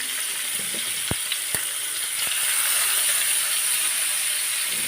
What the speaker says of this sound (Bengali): এখন মাছগুলো আমি ভাজি করে রান্না করব আমি সবসময় মাছ ভাজি করে তারপর রান্নাটা করি